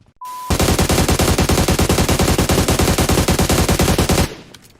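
Rapid automatic gunfire in PUBG Mobile, a long continuous loud stream of shots lasting about four seconds after a short tone, with no talk over it.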